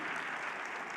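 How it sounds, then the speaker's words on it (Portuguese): A church congregation applauds the choir in dense, steady clapping that fills the whole short moment, with no talking. "você poderia honrá-los com uma salva de palmas aqui"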